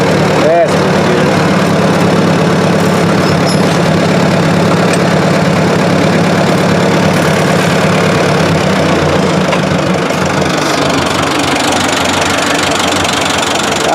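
A Ford 2000 tractor fitted with a three-point boom and wood tongs runs steadily while being driven, its low, knocking engine drone loud and continuous throughout, with a brief clatter near the start.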